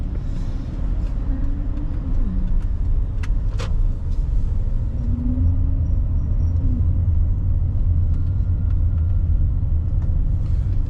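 A car rolls through the streets of Phnom Penh with a steady low rumble of engine and road noise, while surrounding traffic adds occasional brief clicks and a few short horn-like tones.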